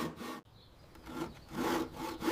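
A Japanese Ryoba pull saw cuts into hardwood, giving close rasping strokes, a short stroke followed by a pause and then longer rhythmic pull strokes, quiet and with no voices.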